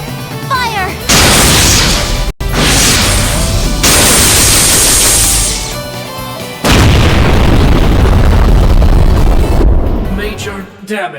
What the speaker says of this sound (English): Fire missile! Railgun, homing laser deployed!